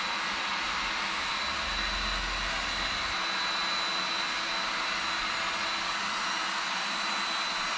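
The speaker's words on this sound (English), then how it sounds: "Before I do too much more with the heat gun, I'm gonna try it on this throwaway piece" A heat gun blows steadily on a plastic panel from a Honda CRF300L Rally motorcycle, a constant close airy roar with a low hum that holds level throughout.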